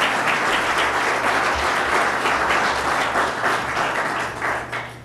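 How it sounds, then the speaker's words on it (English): A press-conference audience gives Mayor Doyle a steady round of applause, dense hand-clapping that carries on loudly and evenly before tapering slightly at the end. "You deserve a great round of applause."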